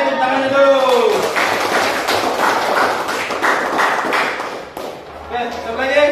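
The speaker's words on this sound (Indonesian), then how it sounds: "Oke, tepuk tangan dulu" Group applause during a peer coaching session, with a few seconds of steady clapping framed by a voice speaking just before and after.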